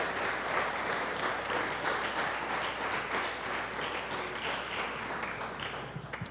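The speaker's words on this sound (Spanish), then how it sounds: "dele palmas al Señor." A church congregation claps steadily throughout, a dense, continuous wash of applause filling the room at even loudness.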